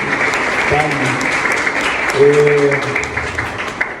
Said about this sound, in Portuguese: queria pedir uma salva de palmas para ela, a Amélia fez um belo trabalho.